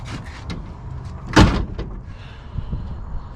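A single car door opens with a short thud and latch clunk on a Maliboom before a track day, followed by quieter rustling, with no talking.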